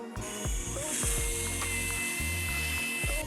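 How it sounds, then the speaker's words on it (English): A belt sander smooths carving marks from a piece of wood, a steady loud whir with rhythmic low pulses and faint squeals as the belt is pushed and pulled across the surface, running nearly continuously and close by. "So that's why I like to use the belt sander in between."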